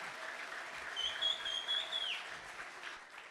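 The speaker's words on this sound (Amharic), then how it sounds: "አጨብጭቡና ለጌታ ክብር ስጡ።" A church congregation applauding, a steady, moderately distant wash of many hands clapping, with a brief high whistle-like tone cutting through partway.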